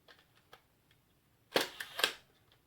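A Kiev 6C medium-format camera fires its shutter, giving a sharp double mechanical clack close up, preceded by a few faint ticks, in a quiet room.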